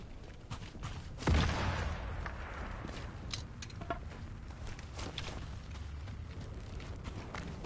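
A single grenade explosion in Sniper Elite 5, a fairly quiet burst with a low rumbling tail, followed by faint scattered clicks and background game noise.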